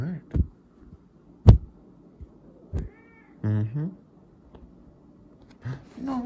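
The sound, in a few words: cat meowing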